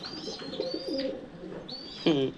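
Pigeons coo in low, throaty bursts, with a louder rolling coo near the end, alongside high thin chirps from other birds.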